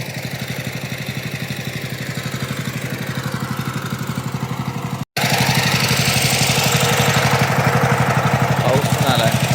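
A tractor engine runs in a wet, muddy paddy field during planting in the rain, giving a loud, steady, throbbing drone that drops out for an instant midway and then resumes.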